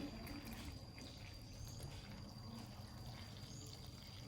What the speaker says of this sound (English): 700 cc of cold water, and you add it to the flour here.